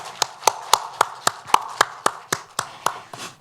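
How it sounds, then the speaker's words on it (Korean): A church congregation at a Wednesday worship service claps together, a series of about a dozen sharp, evenly spaced claps at a moderate, steady pace, fairly close and clear with no talking over them. "박수를 다 같이 치겠습니다"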